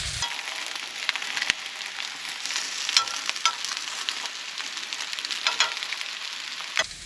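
Food frying in a pan at a campsite makes a steady, close sizzle with crackling pops throughout, and no one speaks.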